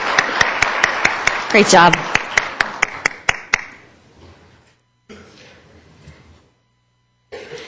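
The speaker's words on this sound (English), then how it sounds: "Let's give them another round of applause." Applause for Stewart Middle School performers at a State of the City event, a smattering of sharp claps that thins out after a few seconds, with a brief spoken remark among them.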